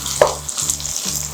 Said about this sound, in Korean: 그리고 이제 팟타이에서 중요한 재료인 건새우를 넣겠습니다.